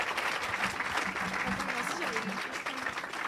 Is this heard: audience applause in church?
yes